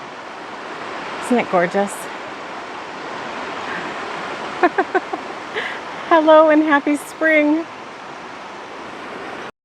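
Water flowing steadily in the Tolt River during spring, a continuous broadband rush beneath a voice that speaks in short bursts throughout.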